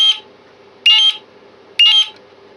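BS 80 Super Keyswitch burglar alarm control panel in full alarm: a loud, shrill electronic buzzer tone pulses three times in a steady rhythm, each burst about a quarter second long, with a faint lower hum continuing between bursts.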